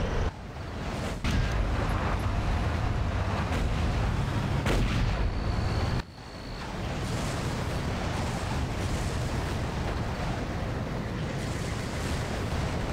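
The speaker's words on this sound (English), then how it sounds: "They will try and shoot you, but obviously they can't hit you with the rockets because you're just moving too fast." Rockets and gunfire from enemies in the Far Cry video game make a loud, continuous roar of explosions and rumbling blasts mixed with wind-like noise, with a sharp break midway and no talk.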